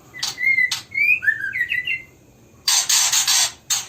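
A young oriental magpie-robin (murai batu) gives a few short, close whistled chirps and a brief warbling phrase. Quiet gaps separate the calls, and sharp bursts of handling or rustling noise break in near the end.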